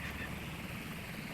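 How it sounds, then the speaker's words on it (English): An ASW helicopter flies in the naval video game Sea Power, its rotor and engine giving a steady, faint, distant drone with no change across the moment. "Nice ASW helicopter hunting for absolutely no submarines around there."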